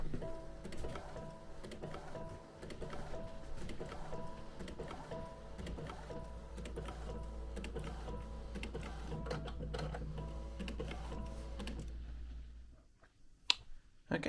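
A printer printing a card back onto thick display board, with a steady rhythmic mechanical whirring and ticking that runs for most of the stretch, then stops, leaving a few sharp clicks at the end.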